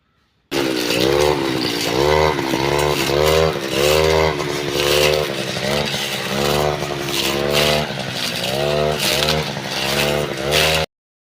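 A petrol power cutter clearing brush across a 30-cent plot of overgrown land whines loudly and steadily, rising and falling in repeated revving bursts as it bites into the growth.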